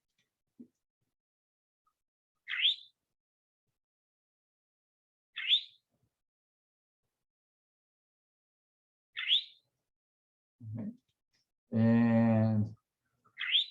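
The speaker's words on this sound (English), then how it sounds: "that bird that just can't stop saying its name. It's an eastern towhee." Eastern towhee calls ring out four times at moderate distance, short rising two-part phrases spaced a few seconds apart in a quiet setting, with a brief spoken word and a low voiced sound near the end.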